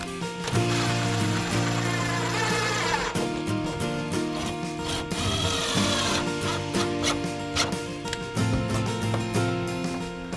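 A power drill drives screws through the channel of a Fibo hidden corner profile for wall panels, a loud whining motor rising and pulsing over several seconds with clicks and brief stops.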